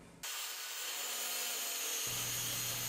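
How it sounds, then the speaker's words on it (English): A power saw rips a 4x8 sheet of maple plywood, a steady loud whine and cutting roar that holds throughout, briefly changing pitch as the blade enters and leaves the wood. "I start by breaking down my 4x8 sheet of maple plywood into sizes that I'll need"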